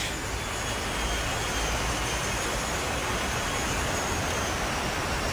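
An E-flite Extra 300 RC model airplane hovers indoors in a large hall, its electric motor giving a steady, loud, continuous whine and rush with no break for several seconds.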